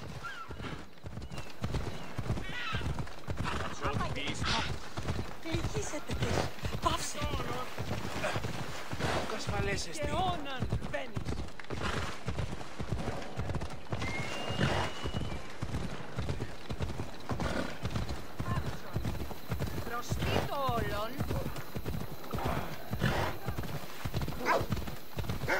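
Horse hooves gallop in Assassin's Creed Odyssey gameplay, a fast, steady clip-clop rhythm running throughout at close range, with occasional whinnies and in-game voices speaking over it.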